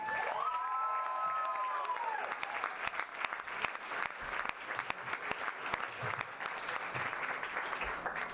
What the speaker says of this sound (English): I require you to raise a round of applause for the first speaker of the afternoon, the father of the bride